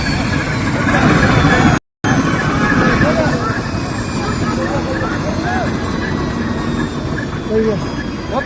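A helicopter hovers during an emergency landing at Kedarnath, giving a steady, loud rotor and engine roar. A crowd's chatter and shouting runs underneath throughout, and there is a brief dropout near the two-second mark.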